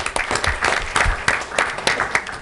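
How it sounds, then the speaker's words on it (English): A small group claps at a Los Alamitos city council meeting, sparse and distinct handclaps in an uneven rhythm, close by and moderately loud. "just a round of applause"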